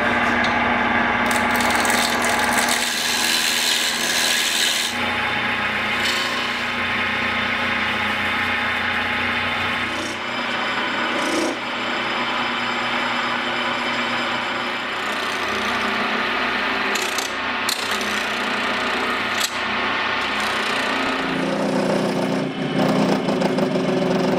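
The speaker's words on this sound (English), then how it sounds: "I'm going to be using carbide turning tools because I've had luck with them in the past when doing polyester" Carbide turning tools cutting polyester resin on a lathe for an amber prop replica, heard as a loud, continuous whirring motor drone with steady scraping hiss and occasional sharper ticks throughout.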